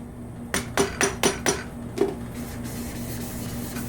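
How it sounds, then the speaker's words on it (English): A dead blow hammer strikes a milling machine power feed in a quick series of about six close, sharp knocks, then one more blow after a short pause, against a low steady hum. "we're going to need a dead blow hammer because we're going to have to keep pounding on it"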